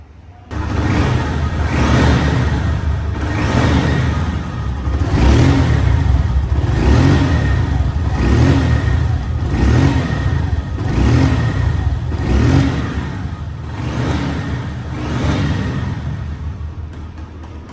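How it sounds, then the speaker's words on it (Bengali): A used Honda CB Hornet motorcycle engine revving up repeatedly, close and loud, with rhythmic rises and falls in throttle roughly every second or two over a steady idle. "এখন সাউন্ড কোয়ালিটিটা শুনুন।"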